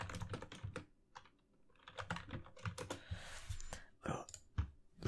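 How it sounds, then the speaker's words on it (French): Fast typing on a computer keyboard in a quiet room, a dense run of close, crisp key clicks in uneven bursts with brief pauses, heard alone without talk. "Hop, ça fait bruit de clavier dans les tags en plus."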